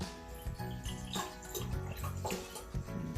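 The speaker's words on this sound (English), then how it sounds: "I'm going to pour some of the vinegar in it." Vinegar poured into a jar for a baking soda experiment, a continuous gurgling splash of liquid with soft irregular glugs, close by and moderately loud.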